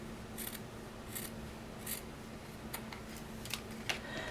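Scissors make a straight cut through fabric along the bottom seam allowance of a sewn bunny toy, heard as a run of soft, close crunching snips at a steady rhythm over a faint background hum, with no talking.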